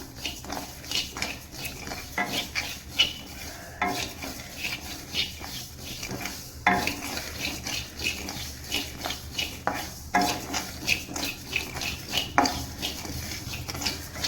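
Black gram lentils dry-roasted in a pan, stirred with a utensil that scrapes and clinks against the metal in irregular strokes, close and moderately quiet.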